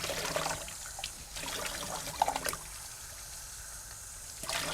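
Cranberries are rinsed under running tap water, producing a quiet, steady trickle with faint splashes and a brief clatter partway through, heard close and alone.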